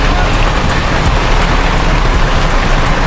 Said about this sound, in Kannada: ಹೆವಿ ಮಳೆ ಬೇರೆ ಬರ್ತಿದೆ ಇಲ್ಲಿ